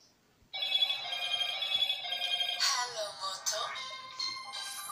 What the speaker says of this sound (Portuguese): a gente vai ligar para ele para mostrar que está pegando